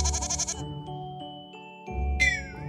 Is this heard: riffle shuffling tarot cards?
no